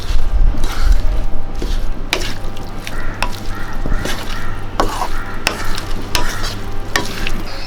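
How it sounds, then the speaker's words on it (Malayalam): Jackfruit stir fry with curry leaves stirred in a pan, a utensil scraping and clacking against the metal in repeated strokes over a steady close sizzle. "ഇളക്കി കൊടുക്കാം."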